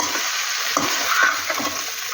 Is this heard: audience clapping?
no